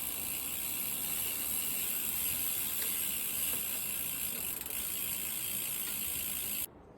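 Bicycle drivetrain on a triple crank being shifted across the chainrings, a steady close mechanical whir and ticking of chain and gears running without a break, cut off abruptly near the end.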